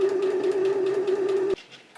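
A sewing machine stitches along a folded ribbon, giving a steady, close motor hum for about a second and a half before it stops and leaves quiet room noise.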